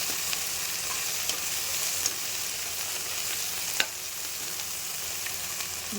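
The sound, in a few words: frying bay leaf, whole spices and garlic in a pan for tomato rice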